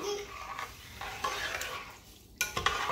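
Rice being swirled by hand in a pot of water while preparing Jamaican mackerel and white rice, soft sloshing and faint scraping with a few sharp clinks near the end, quiet and close.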